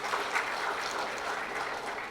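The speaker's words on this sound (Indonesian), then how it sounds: "Ini tepuk tangan nih buat beliau" An audience at a college graduation ceremony applauds in a steady, even wash of many clapping hands, moderately loud and sustained throughout with no talk over it.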